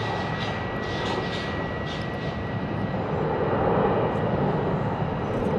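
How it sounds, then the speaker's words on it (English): Steady broadband roar of an American Airlines Airbus A319 landing at Phoenix airport, a constant engine rush that swells slightly toward the end, with no talk. "Nice A319 landing there."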